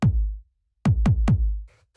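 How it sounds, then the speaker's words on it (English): A 909-style kick drum sample, one deep punchy thump followed by three quick repeated hits with decaying low booms, loud and dry with nothing else. "As you can see, it's just like a 909 style kick"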